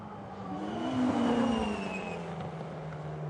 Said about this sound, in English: Here comes the bright orange 1M